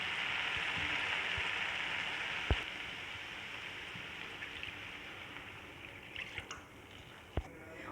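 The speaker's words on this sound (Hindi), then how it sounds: "अब इसमें पानी ऐड करूँगी" Water is poured into a pan of fried masala while cooking dal moong mangochiyan, a steady splashing hiss that lasts throughout with a few sharp clinks, close and moderately loud.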